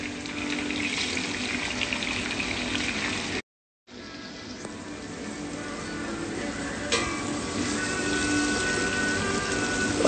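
Chilies and onions sautéing in reused oil in a pan, giving a steady close crackling sizzle that briefly cuts out, then resumes and grows slightly louder.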